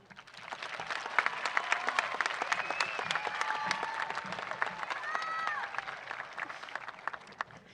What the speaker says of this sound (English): Kira, can we get a please warm round of applause for our valedictorian?